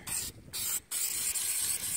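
A can of spray paint hisses in three close, loud bursts separated by brief pauses, with no talking.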